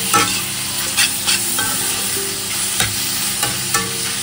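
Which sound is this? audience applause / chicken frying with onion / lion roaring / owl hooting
chicken frying with onion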